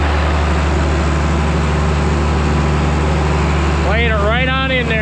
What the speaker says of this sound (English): Lowest gear the tractor has